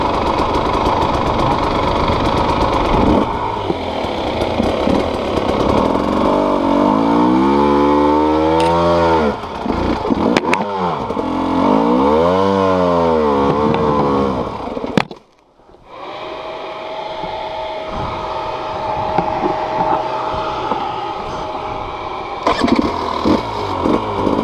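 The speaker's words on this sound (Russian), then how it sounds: "Обойди мотоцикл или едь." A motorcycle engine runs close by, idling and revving in rising and falling sweeps, then cutting out briefly before it settles back into a steady idle.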